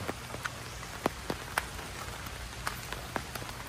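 Steady rain falls on a farm in Batangas during the monsoon, a soft continuous hiss with scattered louder drops tapping nearby surfaces, no voices.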